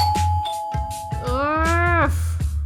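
A doorbell rings at a hotel room door during a college trip: a sustained chime tone followed by a brighter, sliding ding-dong, with a soft low hum in the background.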